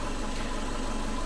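A car engine running steadily with a crack in its radiator, a constant low rumble close by, brief and with no voices.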